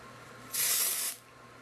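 Dry shampoo sprayed onto hair from an aerosol can, a single loud, close hiss lasting about half a second before cutting off.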